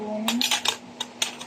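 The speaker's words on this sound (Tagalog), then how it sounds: "Peel the banana. Mash the banana." Metal spoon clinking and scraping against a bowl while mashing a peeled banana for banana cupcakes, a handful of sharp taps in an irregular rhythm over a steady low hum, close by.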